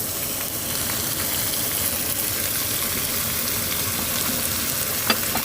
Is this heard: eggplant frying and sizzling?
yes